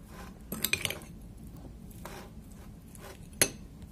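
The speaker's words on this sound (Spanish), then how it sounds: "Y ahora a mezclar muy bien todo." Guacamole seasoned with salt and lime juice is mixed in a bowl, giving a few sharp clinks of a utensil against the dish amid soft squishing, with quiet gaps between strokes.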